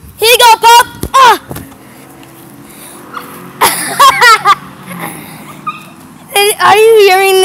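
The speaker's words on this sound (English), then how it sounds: "Are you hearing this yap?" A small dog yaps in short, high-pitched bursts, several quick barks in clusters, with people talking nearby.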